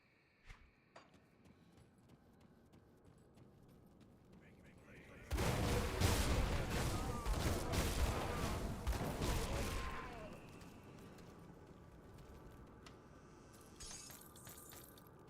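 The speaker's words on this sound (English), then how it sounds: "That explosion's getting bigger" A large explosion in the video game Witchblade bursts in at full strength and roars as a dense, loud blast for about five seconds, then fades back into quieter game sounds.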